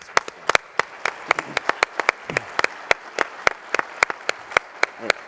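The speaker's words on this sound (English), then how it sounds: "So let's give a round of applause for everybody." Conference audience clapping for sponsors, a sparse round of distinct, sharp individual claps in an irregular rhythm, fairly close and steady for about five seconds with faint background murmur.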